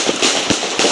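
A gunshot fired during a chaotic police response at a Toledo block party, three sharp cracks spaced through a second of dense, noisy crowd din.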